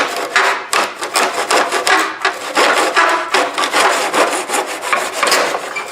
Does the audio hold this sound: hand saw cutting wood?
yes